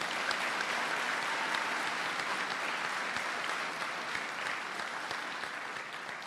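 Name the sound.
applause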